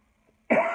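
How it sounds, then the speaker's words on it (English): A single sudden cough, loud and close, breaking a near silence. "My cough starts right at the time I'm doing this."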